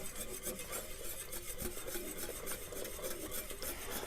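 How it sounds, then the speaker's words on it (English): A whisk scraping and rasping steadily around a bowl of tempered homemade egg nog mixture of eggs, a close, quiet, continuous stirring sound with no voices. "And now as we put this in, we want to whisk."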